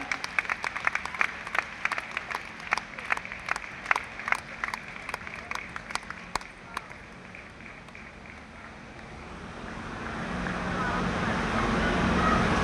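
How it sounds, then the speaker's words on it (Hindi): Crowd clapping at a political welcome ceremony for a district president, dense applause with sharp claps for the first half, then fading into a rising wash of broad noise. "हाथ ऊपर कर जोरदार तालियां।"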